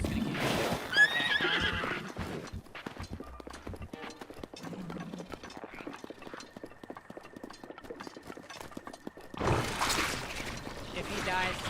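Horse sounds in Breath of the Wild: a whinny near the start, then soft clip-clopping hooves and game ambience with a steady tone, and a louder rush of neighing and movement toward the end.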